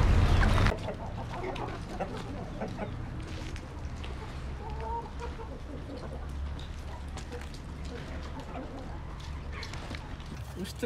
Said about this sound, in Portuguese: É tudo de lá esses frangos aí.